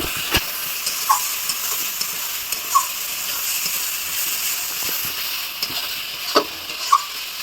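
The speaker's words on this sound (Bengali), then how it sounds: "এবার আমি ভালো করে মশলাটা কষিয়ে নেব।" A spice paste with turmeric fries in oil in a pan for a country rooster curry, a steady hiss and sizzle punctuated by a few sharp scraping taps of a spoon against the pan, close up.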